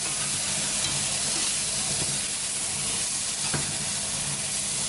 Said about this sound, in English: So let that all just sort of steam in its pan here.